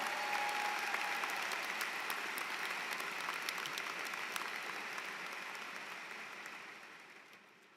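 Applause at an online undergraduate graduation ceremony, a dense, even wash of clapping that holds steady and then gradually fades toward the end.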